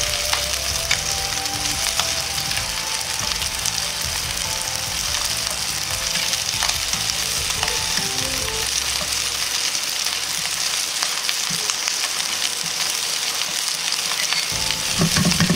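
Shrimp sizzle loudly in a frying pan for a shrimp curry, a dense continuous crackle and spatter with occasional scraping as the pan is shaken and stirred.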